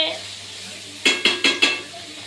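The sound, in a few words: prawns frying in a pan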